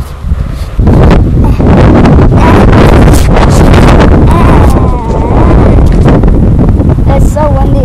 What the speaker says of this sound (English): It's so windy out.